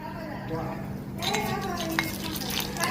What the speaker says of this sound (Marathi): या तुपामध्ये सर्वात प्रथम आपण आपले जे ड्रायफ्रूट्स आहेत ते परतून घेऊ